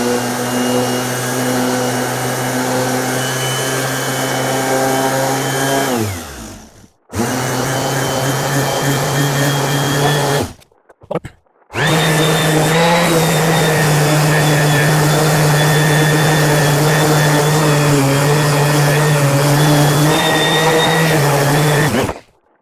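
A power sander whirs loudly and continuously over the wood finish of a vintage copper-lined cigar humidor, stopping briefly twice before running on steadily.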